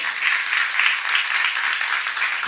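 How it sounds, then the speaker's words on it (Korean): A church congregation clapping during a sermon, a dense continuous round of applause sustained at steady loudness throughout, close and with no voices standing out above it. "박수를 하세요."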